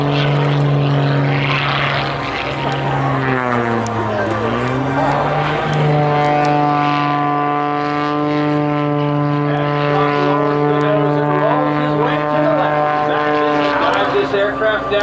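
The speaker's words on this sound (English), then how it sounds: "Aircraft down to 18 feet above the ground, 220 miles an hour." An aerobatic propeller airplane roars low past an airshow crowd at about 220 mph, a loud sustained engine drone whose pitch swoops as it passes, with an announcer talking over it.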